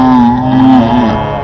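A low, steady harmonium note held for a sustained drone, loud and rich in harmonics, played to evoke a buffalo's voice during a beginner's lesson, with no talking over it.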